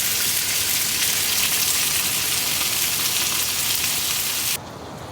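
Fish skin crisps in a pan over a gas stove while camping in a rain forest hot tent, a loud, steady sizzle that continues for over four seconds and then drops off abruptly.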